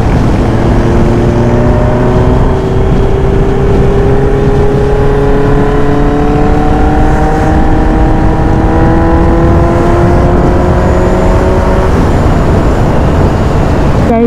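A motorbike engine on a road trip ride, a loud continuous drone with smoothly rising and falling pitch as the bike gets up to speed, close and heavy with wind, no talking.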